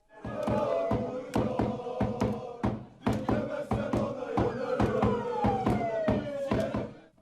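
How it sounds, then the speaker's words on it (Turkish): A large rally crowd in a Bursa square chants for Özdağ, loud rhythmic bursts of voices repeating in a steady pulse, with rising and falling shouted tones layered on top. "Bursalılar Özdağ için tezahüratlarda bulundu"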